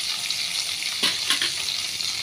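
Egg masala fries in a pan with a steady close sizzle and a few sharper crackles and stirring bursts midway, alone without talk.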